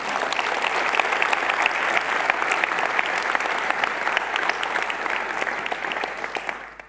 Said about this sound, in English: But we didn't give her an applause, our Deputy Mayor, Marielle Verviers.